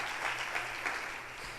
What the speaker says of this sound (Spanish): ¿Cuánto le dan palmas a ese Dios glorioso, hermanos?